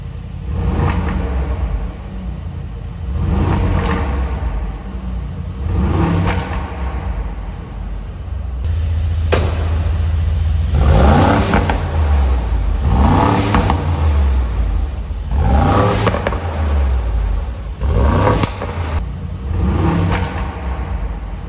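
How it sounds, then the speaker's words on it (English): Brabus G800 XLP pickup's exhaust in Sport Plus mode, revving repeatedly in loud rising bursts over a deep idling rumble, close by and heard without talk. "Let's put the car in Sport Plus, which automatically activates the exhaust."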